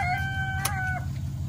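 A rooster crows once outdoors with a rising-then-falling call, alongside a steady low engine-like hum and a sharp brief click in the middle.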